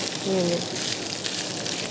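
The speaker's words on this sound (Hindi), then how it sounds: "अब इस टाइम पे मैं हल्का सा जो है ना पानी ऐड करूँगा इसके अंदर" Water poured into spice paste in a hot pan sets off a steady broadband sizzle and hiss that stays loud and even throughout, with a short tonal squeak near the start.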